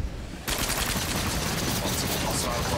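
Turret gunfire in the video game The Cycle bursts in after a short quiet lead-in and keeps up as a dense, steady stream of rapid shots, loud and close, with speech running alongside.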